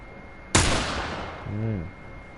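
A single sharp rifle shot from The Last of Us Remastered cracks loudly and decays over about a second, followed by a short low rumbling echo.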